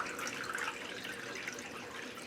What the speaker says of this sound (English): go ahead and drain your water. And just let the excess water drain out of the wig